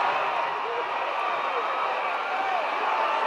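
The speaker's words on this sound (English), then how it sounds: "Listen to this crowd." A large crowd at a hardcore pro wrestling match featuring Bull Curry against Johnny Valentine roars steadily, a dense, continuous wash of cheering and shouting that holds at an even level throughout, with no single voice standing out.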